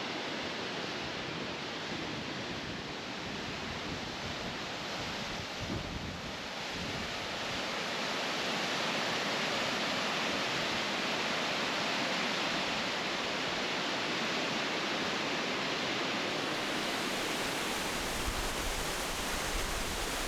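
Water crashing down the two-drop falls among dark basalt rocks, the largest waterfall in the Faroe Islands, heard up close as a loud, steady roar that holds throughout with no voices.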